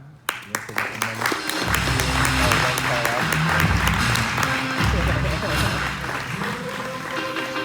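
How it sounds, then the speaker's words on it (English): Applause from an audience fills the space, a dense wash of clapping with music and voices mixed in underneath. "So I'd like to give you a big round of applause, Veronica."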